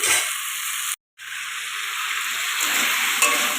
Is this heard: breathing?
no